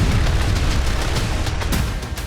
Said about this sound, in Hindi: ये धमाका कहीं और नहीं बल्कि रूस की राजधानी मॉस्को में हुआ।